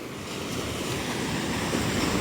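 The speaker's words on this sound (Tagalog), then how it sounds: "Malaki ngayon ang alon masyado, guys." Big ocean waves surge with a continuous loud roar of surf and wind rush at sea, building slightly over the few seconds, no voices.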